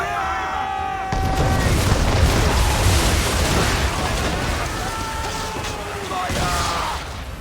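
Naval cannon barrage from ship guns in Assassin's Creed III, a sudden heavy boom opening a rolling, rumbling volley that lingers for seconds, loud and close, with faint tones and shouts in the background.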